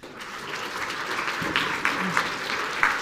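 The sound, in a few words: audience applause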